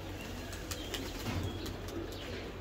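A pair of pigeons, white Chuina Chuthal and Kagoji Chuthal fliers, with faint wing flutters and soft movement over steady background noise, no calls clearly standing out.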